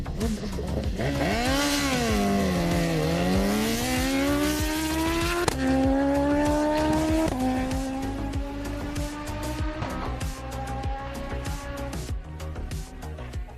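A car on a quarter-mile drag run roars hard through several gear changes, its engine pitch climbing steadily and then dropping at each shift, loud and continuous without speech.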